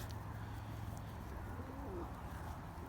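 Soft, low cooing from pigeons or doves, repeated in a steady murmur under a constant background hum, with no talking.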